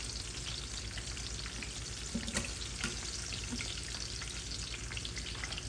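Chopped onion frying in a pan for salsa macha, with a spoon scraping and breaking it up; a steady loud sizzle runs throughout, with a few clicks and scrapes of the spoon against the pan.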